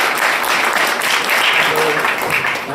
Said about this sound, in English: Let's give her a nice round of applause